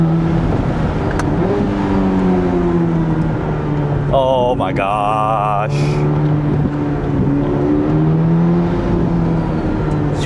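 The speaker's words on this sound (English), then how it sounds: "You can really hear the whistle and spool of those turbos" A Corvette ZR1 engine drones steadily while a high, warbling turbo whistle and spool rises briefly mid-way; a voice exclaims briefly.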